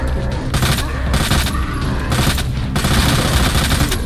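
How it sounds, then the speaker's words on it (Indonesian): Rapid bursts of gunfire from the Resident Evil 2 video game, loud and dense with repeated shots and booms throughout, plus brief faint game noises. "Ini gua tembak terlebih dahulu."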